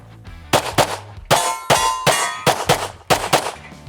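Pistol shots from a Glock 17 loaded with heavy 147 grain ammunition, each followed by a bright metallic clang as bullets strike steel plates; about seven sharp, loud impacts in an irregular rapid string, close by.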